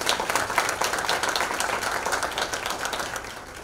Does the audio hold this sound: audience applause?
yes